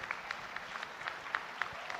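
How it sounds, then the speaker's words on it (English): Faint, scattered clapping from a small audience at a tech fair after a team presentation, sparse distinct claps rather than a full ovation, heard from a distance. "A round of applause."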